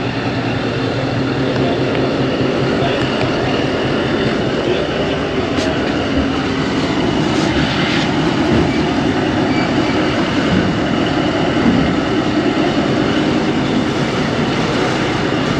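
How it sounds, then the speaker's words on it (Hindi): Pakistani 122DN Ravi Express pulling out of Qila Sheikhupura Junction station, a loud steady rumble of wheels and carriages rolling continuously without a break, heard close from on or beside the train with no talk. "कुछ ही देर का स्टॉप किया है और अब रवाना होने लगे हैं, तो चले ट्रेन पे सवार होते हैं।"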